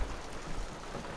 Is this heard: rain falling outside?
yes